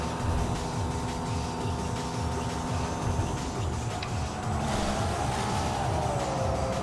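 Subaru race car engine in Tokyo Xtreme Racer 3 drones steadily with a rhythmic pulsing rumble and a rising pitch near the end, loud and continuous with no talk.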